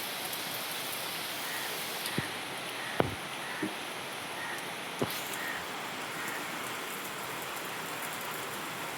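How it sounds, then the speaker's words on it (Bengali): Rain falling outdoors, a soft, even hiss of drops with a few louder isolated drips or taps now and then, no speech. "শোনো বৃষ্টি হচ্ছে"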